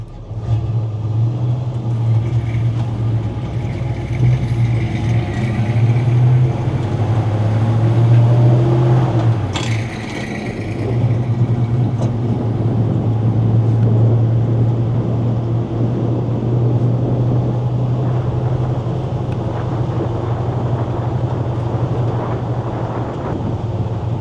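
A 1966 Chevrolet C10 custom short-box pickup with a 327 V8 and dual Flowmaster exhaust rumbles steadily as it drives, a deep, loud, continuous exhaust drone with a brief dip midway and wind noise over the microphone.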